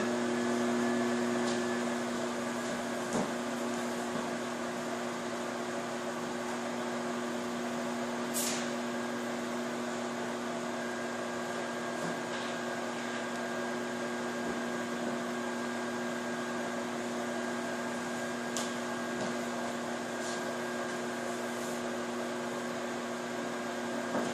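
A microwave oven running steadily while cooking bacon-wrapped shrimp, a constant electrical hum with a faint whirring drone, heard close and without talk, broken only by a few tiny clicks.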